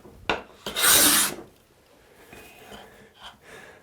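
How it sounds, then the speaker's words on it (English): A cabinet scraper pushed along a wood surface gives a loud, rasping scrape lasting about half a second, preceded by a few short taps and followed by quieter, softer scuffs near the microphone. "Happy scraper, pushing all the way along."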